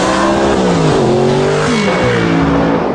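Engine of an Audi R8 sports car revving loudly and continuously, pitch rising and falling through the gears with a hard, racing edge and no talk.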